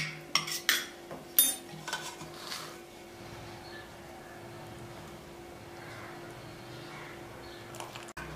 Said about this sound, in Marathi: आता याला आहे ना चमच्याने आपण मिक्स करून घेऊ.